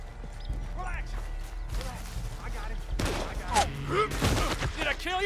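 Gunfire crackles in bursts alongside horse hooves in the Red Dead Redemption 2 video game during a chase, mixed with shouted dialogue and game music throughout.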